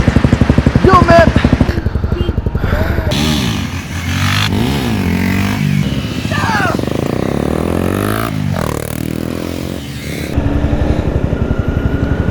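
Honda CBR sport motorcycles start off on a group ride, their engines rumbling and revving nearby while people talk over the noise.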